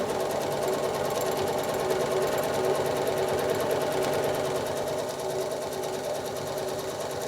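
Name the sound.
sewing machine quilting straight lines on a 9-patch block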